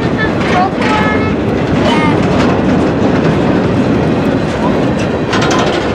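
A CSX mixed freight train with tanker cars rolls past close and loud, its wheels clacking steadily over rail joints in a continuous roar.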